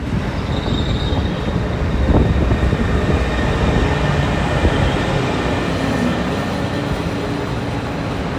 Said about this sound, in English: While we're here, an Acela pulls in.